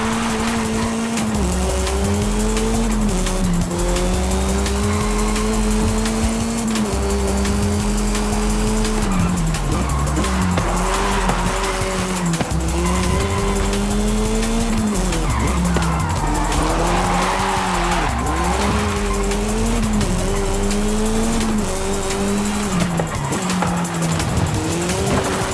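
Monster truck racing in the video game Forza Horizon 5, a loud, constant engine drone rising and falling in pitch with tire squeal and skidding layered on top.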